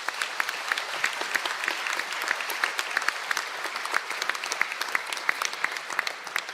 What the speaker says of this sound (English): can we please give those candidates a round of applause?